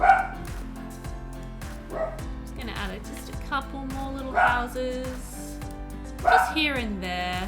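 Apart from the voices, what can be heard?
dogs barking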